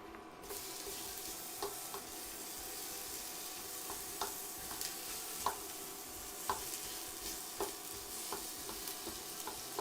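Food sautéing in a hot pan for a Thai chicken curry sizzles steadily at low volume, with regular stirring scrapes and small clicks of a utensil breaking through the constant frying crackle, and nobody talking.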